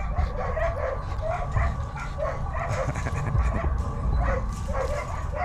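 Dogs at a dog track bark and yip over and over, close by, in a steady stream of overlapping calls with constant background commotion.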